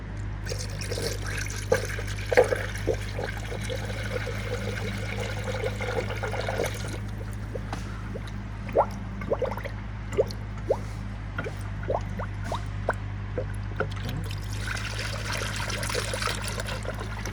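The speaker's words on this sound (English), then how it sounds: "So we're gonna add antifreeze." Antifreeze goes into the radiator of a Honda Civic with a 1.8 L or 2.0 L engine. Soft drips and small trickling splashes recur irregularly over a constant low hum.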